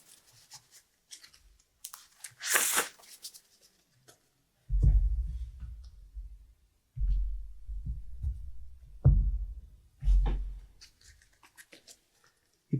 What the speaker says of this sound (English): Next up I will shuffle my deck.